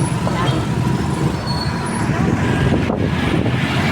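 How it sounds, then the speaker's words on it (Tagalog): Heavy road traffic on a route toward the province, with a bus and other vehicles rumbling past in a dense, steady roar, close by, and a voice talking over it. "dito naman ang traffic sa pauwi ng probinsya"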